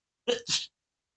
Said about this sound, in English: your sneeze sounded so high pitched